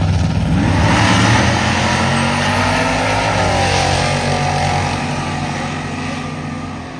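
Loud drag racing car at a strip, its engine roaring continuously with a steady harmonic drone that gradually fades as it pulls away.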